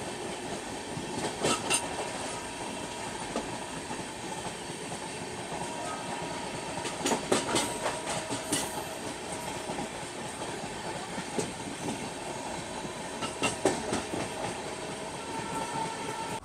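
The Dibrugarh Rajdhani Express rolls steadily on its rails near Katihar Junction, with a continuous rumble and repeated clickety-clack bursts as the wheels cross rail joints, heard from inside the coach with no talk.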